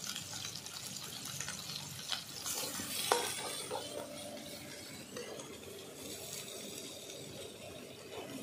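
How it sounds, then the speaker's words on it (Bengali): Jackfruit seed mash for a bhorta stirred in a pan produces a soft, steady sizzle with faint scraping and a single louder clink partway through, close and fairly quiet. "দেখো এইভাবে ভালো করে নাড়িয়ে চাড়িয়ে দেখো"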